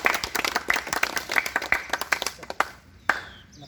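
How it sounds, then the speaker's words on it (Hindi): Applause for Sanjeet Kumar, a successful Railway Group-D physical test candidate, from a small group clapping in quick, uneven bursts. The claps are close and sharp and thin out toward the end, with a faint voice in the background. "संजीत कुमार के लिए जोरदार ताली"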